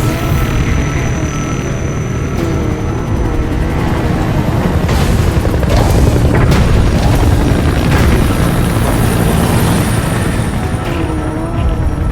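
In the video game Metal Gear Solid 5, a helicopter's dense, steady rotor and engine roar fills the scene loud and unbroken, with scattered booms and bursts of gunfire mixed in.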